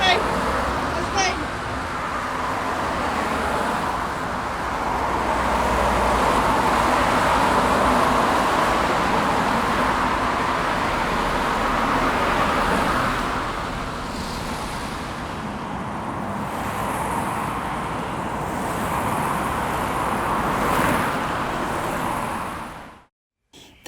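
Continuous road traffic rumbles steadily nearby for about twenty seconds, a broad unbroken wash of passing vehicles with a voice or two mixed in, then cutting off abruptly at the end.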